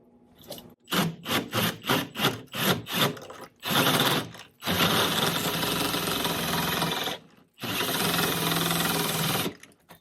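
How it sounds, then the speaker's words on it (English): A drill driving a hole saw into a door while fitting a Schlage electronic deadbolt: short bursts of cutting at first, then two long, steady grinding runs separated by a brief pause, loud and close. "Just kind of start out slowly until you can kind of get your cup cutting. You don't need to go full speed with the drill."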